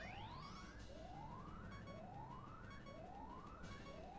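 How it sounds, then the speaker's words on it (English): Repeated electronic alert tones from the video game Ocarina of Time: a faint, steady series of rising, siren-like sweeps, about five in a row at roughly one-second intervals, with no talking. "So many beeping noises."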